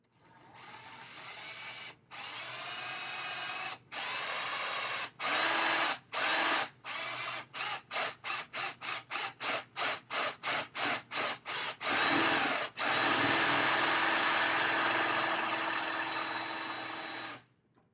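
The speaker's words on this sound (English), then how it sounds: "great thing about a force knit bit is that it drills a flat hole. It's perfect for putting magnets in." A Forstner bit in a power drill bores flat-bottomed holes sized for magnets in a prop-build workpiece, running in repeated bursts: long runs first, then a fast series of short pulses, and a final long sustained drilling pass, close and loud with no talk.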